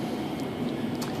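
A Siemens Nexas suburban train on a Melbourne Metro line between Newport and Seddon, heard from onboard as a steady, close cabin rumble and rolling drone with no talk.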